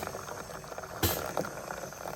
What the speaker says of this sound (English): And now it's just actually nitrogenating the water.